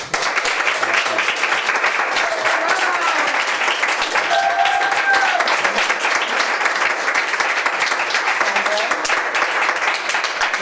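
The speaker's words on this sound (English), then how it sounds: "Another round of applause." Sustained audience applause after a couple's appearance at a hip hop poetry and spiritual talk event, a steady dense wash of clapping from a large crowd lasting the whole stretch, with faint voices and whoops rising briefly above it.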